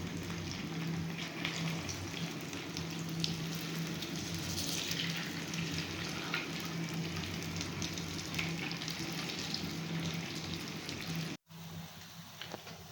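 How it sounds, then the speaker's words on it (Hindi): Bread cheese snacks fry in a pan with a steady, dense crackling sizzle that continues evenly and fairly close, breaking off abruptly near the end before resuming more quietly; no one speaks. "अब हम इनको फ्राई करेंगे।"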